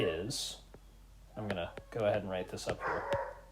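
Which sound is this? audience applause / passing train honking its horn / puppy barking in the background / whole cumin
puppy barking in the background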